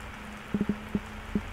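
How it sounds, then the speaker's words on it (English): Rain falls at night in the horror game Fears to Fathom: Ironbark Lookout, a soft steady patter with a handful of brief, sharper drops or taps standing out over a faint low hum. "Oh, it's raining."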